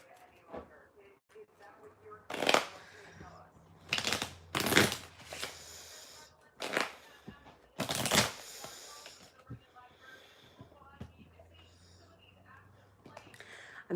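Tarot cards being shuffled during a live card reading: several crisp, riffling bursts close up, coming in short separated rounds over a quiet room with faint soft voice in the background.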